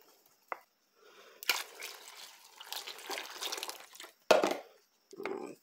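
Water splashes and trickles into a basin of homemade soap in uneven bursts, with a few sharp knocks and pauses between pours, close and fairly soft.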